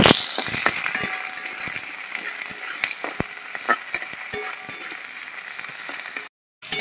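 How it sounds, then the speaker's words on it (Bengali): Chopped onions frying in oil with bay leaf and whole garam masala, sizzling steadily while a spoon stirs and scrapes the pan with repeated sharp clicks, ending in a brief silence. "পেঁয়াজগুলো একটু লাল করে ভেজে নেব।"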